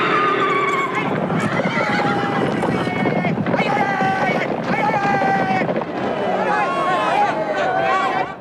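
Horses of a four-horse Gaulish racing chariot in a circus arena whinny and neigh again and again, loud and close, over a busy background of clatter and music-like tones.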